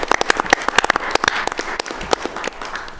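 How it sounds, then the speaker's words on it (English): A round of applause at a city council meeting, a burst of many hands clapping briskly and unevenly, fairly close, fading after a few seconds. "one big clap for Rich Milner."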